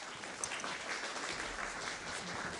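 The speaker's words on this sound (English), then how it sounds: "let's give her a little round of applause" Quiet, distant audience applause welcoming a speaker at a Washington Health Alliance health care forum, an even patter of clapping throughout the short stretch.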